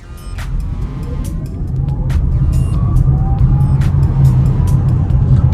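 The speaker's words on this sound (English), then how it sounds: "Oof, that 0 to 60 time is super quick." A 2024 Polestar 2 Performance electric car accelerates hard from 0 to 60 mph, its rising motor whine climbing in pitch over loud, steady road and tire rumble inside the cabin.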